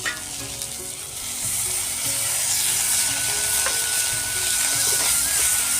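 Tomato and ginger paste sizzles steadily in a pan, a bright continuous frying hiss close by, with a few soft stirring clinks and no talking.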